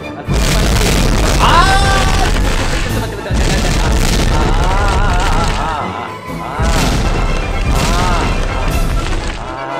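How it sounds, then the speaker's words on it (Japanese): Three heavy booming blasts crash in succession, each with a ringing, swirling tail, loud and close, from exploding balls in a bowling video game. "どうやらこの子が爆発した爆風"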